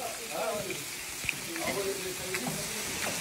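Sea shrimp (camarons) sizzle in a pan for a Creole sauce as water is poured in, producing a soft, steady frying hiss with small clinks while people talk quietly nearby.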